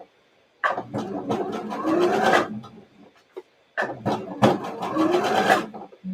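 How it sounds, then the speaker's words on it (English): A sewing machine sews a shirred top in two separate bursts, each stitching forward, briefly pausing and reversing for a back stitch. The loud, close whirring is divided by a quiet gap. "Forward stitch, back stitch, and then forward stitch, and you go on."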